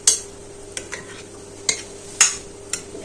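Boiled potatoes, peas and chopped fruit being mixed for a Russian salad, a few sharp, close clinks and scrapes of a spoon against the bowl spaced out over a few seconds, with no talking.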